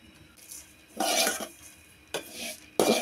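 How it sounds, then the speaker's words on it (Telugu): A quarter kilo of flattened rice (atukulu) is stirred and fried in a pan, giving scraping, rustling bursts at intervals that rise and fall, close by, with no talking. "1/4 కిలో అటుకులు అండి, ఇవి కూడా వేసుకొని బాగా ఫ్రై చేసుకోవాలండి."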